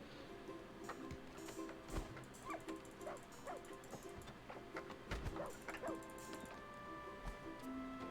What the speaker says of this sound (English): Sounds like that dog is doing his work.